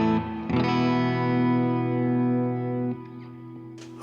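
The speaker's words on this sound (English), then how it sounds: "Here's my clean tone with lots of reverb." A 30-year-old Spectre NS6A electric guitar plays a clean tone with heavy reverb: one strummed chord rings out and sustains for over two seconds, is cut off, then a faint picked note starts at the end.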